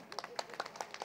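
Audience at a meditation campaign gathering in West Godavari claps in short bursts, scattered hand claps rising and falling every fraction of a second at moderate distance.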